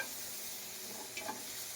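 Onion and garlic sauté in a nearly dry pan for chicken adobo, giving a close, steady sizzle with a brief scrape of stirring near the end.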